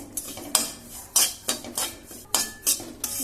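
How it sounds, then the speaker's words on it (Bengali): Vermicelli being fried and stirred in a pan, heard as sharp, loud scrapes and clinks of a utensil against the pan at irregular intervals, with only a faint sizzle underneath. "সেমইটাকে এইভাবে ভাজা ভাজা করতে হবে।"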